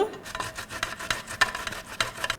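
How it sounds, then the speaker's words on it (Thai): Fresh ginger is rubbed against a kitchen grater in quick, rhythmic rasping strokes, close and steady, with no talking. "ต่อไปขูดขิง"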